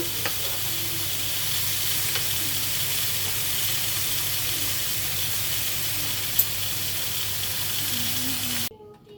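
Food fries in a pan while cooking potatoes and a cheese sandwich, giving a steady, close sizzle and hiss that keeps an even level for about nine seconds, then cuts off sharply near the end.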